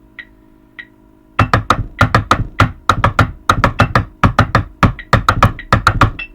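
High school drumline rhythm pounded out on drums: after two faint taps, a fast steady stream of sharp, loud strokes in an even repeating pattern, close and alone.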